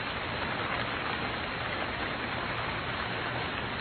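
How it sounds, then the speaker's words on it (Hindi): Heavy, steady rain pours down in a dense, unbroken hiss, loud and close throughout with no other sounds. "बारिश तो बंद ही नहीं हुई, बल्कि और तेज हो गई है"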